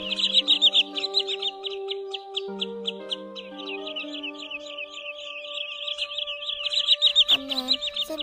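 Common greenshank calls ring out in rapid, repeated bright notes, layered with steady whistled tones that persist throughout.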